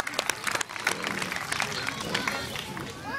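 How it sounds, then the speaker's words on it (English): An audience at a bird show featuring a Eurasian eagle owl gives a round of applause, a scattered clapping burst mixed with voices and crowd chatter, fairly close. "Big round of applause for Jason"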